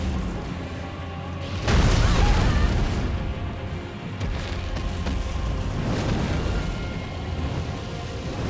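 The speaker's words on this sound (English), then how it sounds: "Homing missiles, eh?" Homing missiles explode in the Elden Ring video game, a loud sustained rumbling blast that swells abruptly and keeps roaring for several seconds, with no talking.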